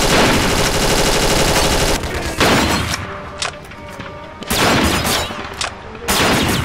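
Repeated gunshots from the WW2 shooter Combat 1944: a long stretch of rapid automatic fire, then loud, close individual shots and short bursts separated by brief pauses.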